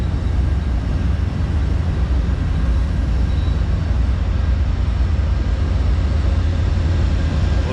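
An Amtrak train passes close by, producing a loud, steady, unbroken rumble with a dense low roar that holds for the whole stretch.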